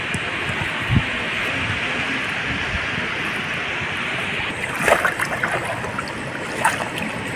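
Water at Patratu dam laps and rushes in a steady broadband wash, with wind noise over it and a few louder splashes, heard outdoors at moderate level with no talking.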